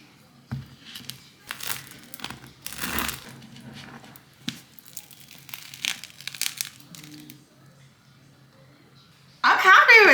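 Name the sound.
knife cutting into a homemade loaf of bread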